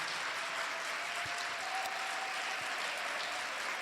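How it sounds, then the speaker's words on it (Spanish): A church congregation at a Catholic charismatic renewal talk claps in sustained applause, a fairly quiet but even wash of many hands heard from a distance, with no speech on top. "a ver ese aplauso"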